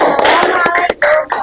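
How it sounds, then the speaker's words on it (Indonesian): Classroom pupils clapping close up, a short burst of quick irregular hand claps mixed with children's voices chattering over them. "Tepuk tangan dong."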